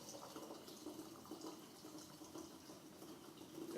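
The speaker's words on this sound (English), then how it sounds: "We're going to add ginger ale." Ginger ale from an 8-ounce can pours into a pitcher of Pearl Sangria, a faint, steady liquid trickle and fizz running evenly throughout with no talking.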